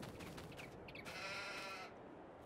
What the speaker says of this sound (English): So we'll just quickly check the sheep.